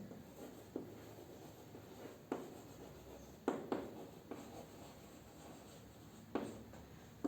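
Writing on a board makes faint, sparse taps and brief scratchy strokes spaced a second or so apart, quiet and close, with no talk.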